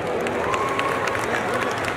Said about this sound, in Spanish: venga, un aplauso para ella.